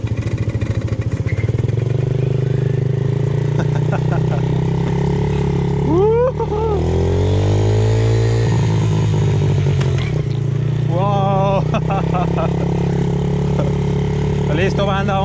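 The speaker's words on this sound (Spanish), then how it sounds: "vamos a salir a destruir las calles en una mini moto" A mini motorbike engine runs with a steady low drone and rises in pitch as it revs, close and loud, while people talk and exclaim over it.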